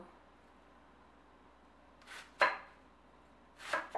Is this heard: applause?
no